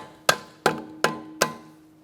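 Hammer tapping out the front left CV axle on a 2013-2022 Buick Encore, four evenly spaced sharp metallic strikes with short ringing tails, close and clear, no talking.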